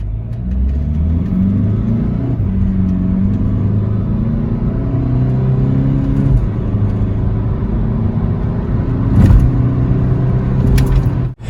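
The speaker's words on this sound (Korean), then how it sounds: "네, 그럼 가속 한번 해볼게요." A 2018 Kia Stonic 1.6 diesel accelerating hard, heard from inside the cabin as a steady close engine drone whose pitch climbs through the gears, with road rumble underneath and no talking.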